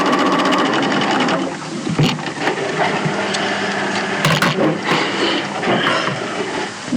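Sewing machine stitching two fabric pocket bags together along a seam, a steady close mechanical whirr and rapid needle clatter running throughout with a few brief pauses and handling knocks.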